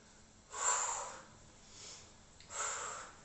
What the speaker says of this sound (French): Donc, soufflez bien.